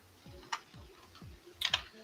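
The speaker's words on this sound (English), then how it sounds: "I forget how loud this keyboard is." A few scattered keystrokes on a computer keyboard, close but soft, with a quick double tap near the end over a faint steady ticking.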